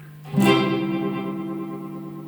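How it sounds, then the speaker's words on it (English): A plucked note blooms into dense, ringing repeats from an Echolette NG 51 tube tape echo that build and sustain, hovering on the edge of runaway feedback before slowly easing. "And it's almost oscillating, but not quite"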